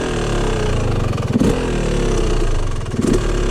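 A Yamaha YZ250 two-stroke dirt bike idles loud and close while running too rich, its uneven putter sagging and nearly stalling twice before catching again.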